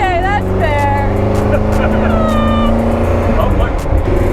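A street-legal race car's engine warms up with a loud, close, steady low rumble and a rising whine, as people talk over it.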